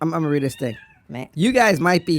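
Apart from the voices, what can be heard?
cat meowing in background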